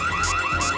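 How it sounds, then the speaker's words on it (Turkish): An electronic alarm wails in a repeating rising-and-falling pattern, steady and moderately loud, with no talking. "Bu alarm da nedir?"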